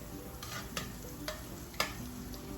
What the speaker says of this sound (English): I'm gonna turn this burner down a little bit. I wanna just melt the butter.